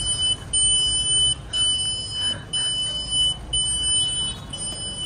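Handheld audio guide device sounding a shrill, piercing alarm tone in repeated pulses, with short gaps between them, loud and close.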